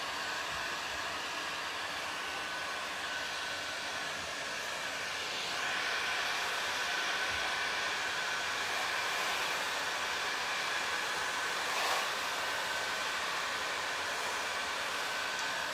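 A heat gun blows hot air to dry wood, a steady close broadband hiss that holds for the whole stretch, swelling slightly louder partway through with a brief surge near the end.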